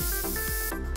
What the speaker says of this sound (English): Not garlic spray!